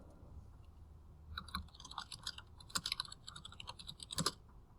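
Quiet, close clatter of fingers typing on a computer keyboard, irregular bursts of keystrokes with a few sharper clicks, faint and alone with no talk.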